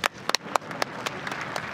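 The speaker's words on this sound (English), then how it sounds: "gives him a round of applause" Scattered individual hand claps, about half a dozen sharp slaps spread over two seconds, ring out at a Pro Wrestling NOAH GHC Heavyweight Championship match, with faint arena murmur underneath.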